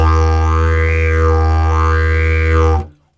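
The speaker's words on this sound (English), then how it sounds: "This is called a didgeridoo. It's from Australia, and it sounds like this." Didgeridoo played with a deep, loud continuous drone and rich overtones, the pitch of the upper harmonics swelling and falling twice in a wavering pattern before it stops abruptly.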